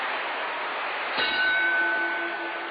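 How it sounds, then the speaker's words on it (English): A boxing bell rings once to end the second round of a heavyweight bout between Rocky Marciano and Roland La Starza, a single clang with a short ringing tail over steady crowd noise. "And there's the bell ending round 2."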